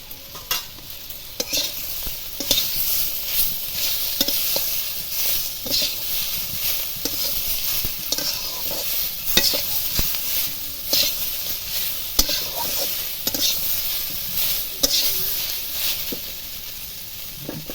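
A spoon scrapes and stirs mustard paste into vegetables frying in oil for a Bengali shukto, with a steady sizzle under repeated, irregular clinks and scrapes against the pan, close and continuous.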